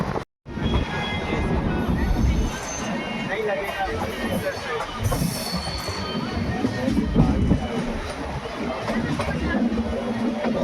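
The Dayodaya Express rolls along the rails in India, a steady rumbling roar with faint rhythmic clatter and occasional squeal, heard from on board at close range for about ten seconds, with a voice talking over it.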